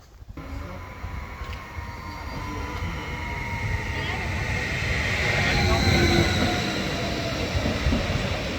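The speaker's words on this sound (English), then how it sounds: "And as the train pulls out of Ebersbach," A train pulls out of Ebersbach station, a steady rumble of wheels and motors building in loudness and holding, with a faint squeal of rails and some quiet background voices.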